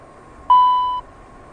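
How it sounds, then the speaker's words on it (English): A master warning alert in a Challenger 650 cockpit in X-Plane 12 sounds as a single clear half-second tone, close and loud over quiet cockpit background. "we got our master warning for turning the APU generator on"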